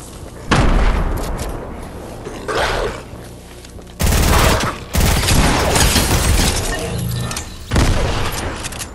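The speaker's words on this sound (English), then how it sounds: "I threw that grenade in the red last minute" Grenade blasts and gunfire in a mountainous shooter game, with several loud, heavy booms arriving in separate bursts and crackling shots between them, close and dominant.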